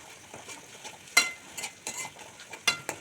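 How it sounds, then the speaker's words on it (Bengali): Garlic and ginger paste fries in a pan while being stirred, a soft sizzle broken by several sharp scraping strokes of the spoon, close and fairly quiet with no voices. "নেড়ে চেড়ে আমি মশলাটাকে একটু ফ্রাই করে নিলাম"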